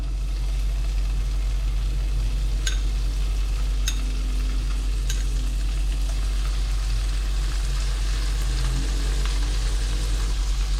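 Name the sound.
shrimp frying in pan with half-cooked garlic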